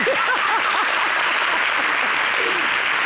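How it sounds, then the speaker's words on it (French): Dense, steady audience applause fills the room throughout at an awards-style showbiz event, with a few faint voices mixed into the crowd noise. "Applaudissez."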